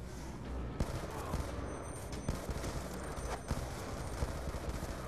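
Dense gunfire from a Call of Duty Black Ops 2 battle, with sharp shots and sniper cracks popping irregularly over a steady rumbling din, including a few louder close bursts.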